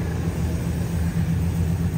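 An automatic 2000 Ford E150 conversion van idles with its V8 engine and the hood open. It makes a steady low rumble close by, with no other sound.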